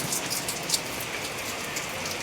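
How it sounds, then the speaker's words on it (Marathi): Steady rain patters densely and evenly, with a few slightly louder drops standing out. "अगे बापले पाऊस पडता टुमुक टुमुक"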